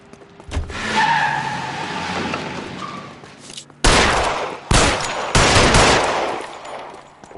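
Gunfire from a gunman in the crime video game L.A. Noire: several loud, sharp bursts of shots in the second half, with vehicle noise and skidding underneath earlier on.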